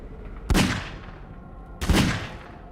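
Two loud Magnum revolver shots fired by computer-controlled characters in Half-Life 2, spaced over a second apart, each a sharp broadband crack with a short decaying tail and no talk.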